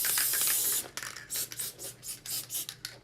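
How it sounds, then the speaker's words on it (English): A spray bottle mists liquid onto a water bottle being prepared for Cricut vinyl: one steady close hiss, then a series of short, rhythmic spritzes; no talking. "So just spray a little bit of that."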